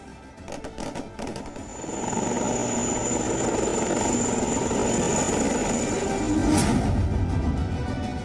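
Rotor thump and turbine whine of a military combat helicopter in the Ladakh mountains, a steady loud drone that swells after the first couple of seconds and holds, with no voices.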